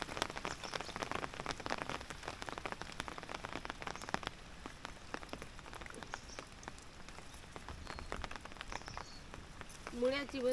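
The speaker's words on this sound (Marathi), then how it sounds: "पाऊस आला." Rain patters steadily on a farm field, a dense close spatter of drops with a few louder hits, while voices talk faintly in the background.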